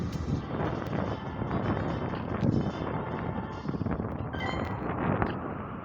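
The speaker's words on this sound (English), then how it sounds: "Why does the wind hate me so much?" Gusty wind buffeting a microphone outdoors, producing a continuous rough, low rumble that surges and dips over several seconds.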